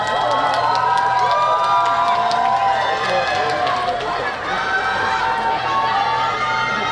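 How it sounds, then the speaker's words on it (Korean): Outdoor festival crowd at a trot concert in Goryeong, cheering and clapping loosely with scattered shouts, while a singer talks over the steady crowd noise throughout. "물만 마셔도 이렇게 박수 쳐주시고"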